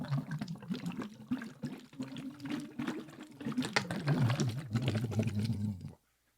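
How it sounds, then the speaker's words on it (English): Bubbles blown through water during a vocal exercise make a steady, close bubbling and gurgling under a low hummed tone, ending abruptly in silence. "as you go deeper, keep the flow of bubbles consistent"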